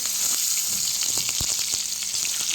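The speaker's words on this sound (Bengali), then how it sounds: "এবার সমস্ত উপকরণগুলো আমি ভালো করে মিক্স করে নিচ্ছি, তেলের সাথে ভালো করে কষিয়ে নিচ্ছি" Chopped garlic, ginger and green chilli fry in hot oil for a hilsa-head and ash gourd dish, a dense, close, steady sizzle with scattered crackles and a spoon stirring through it.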